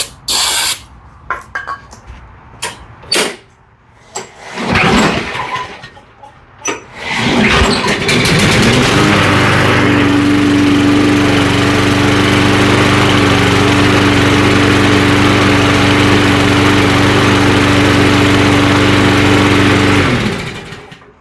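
After scattered clanks, a hiss of starter fluid and a few pull-start tugs, a small lawn mower engine with an idle-surging fault roars to life and runs steadily and loudly nearby.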